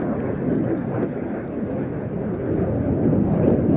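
A Czech L-159A Alca light jet at an airshow sustains a loud, steady, broadband roar throughout, swelling slightly toward the end as the aircraft passes.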